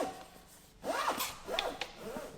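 A flexible KDAR strip is fed along an awning rail on a vehicle, making a close, dry rubbing and zipping sound in repeated sliding strokes.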